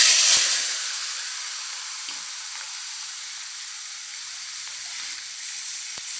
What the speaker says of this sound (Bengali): মাছটাকে আমি ভালো করে লাল লাল করে ভেজে নেব।